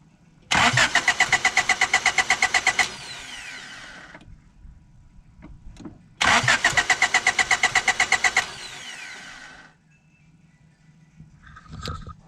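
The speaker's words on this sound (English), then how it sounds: "I just held it in the start, and eventually it started" A Honda Accord engine cranks in two long rapid bursts of starter chugging, each lasting a couple of seconds with a pause between, then catches and settles into a quieter running hum.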